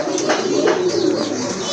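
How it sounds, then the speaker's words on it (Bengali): A pair of fancy pigeons, a male and a female, coo close by with low, rolling, throaty calls that repeat several times. "খুবই ভালো মানের এক জোড়া কবুতর"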